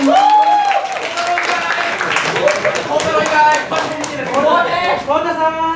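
A live show audience claps for the guest act GeFreaks, steady applause from many hands with sharp individual claps, while voices and cheering ring out above it.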